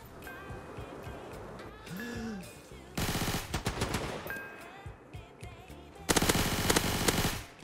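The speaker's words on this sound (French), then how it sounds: "Une nouvelle arme. Automatique." Rapid bursts of automatic gunfire in the video game Blitz Arena, loud and close, two long sustained volleys separated by quieter in-game ambience and brief electronic tones.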